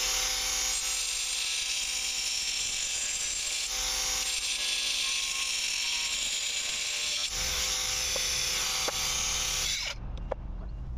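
A Bosch GWX 18V 15 SC cordless angle grinder with a multi-material disc cuts soft concrete in a loud, steady, high-pitched whine that lasts about ten seconds, then cuts out to a few faint clicks and taps.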